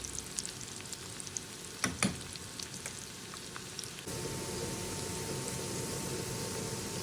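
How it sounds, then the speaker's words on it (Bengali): Onions browning in a pan give a steady hiss and crackle, a few sharper clatters near the middle, and then the sizzle grows louder and denser. "পেঁয়াজগুলোকে ভালোভাবে ভেজে ব্রাউন করে নেব"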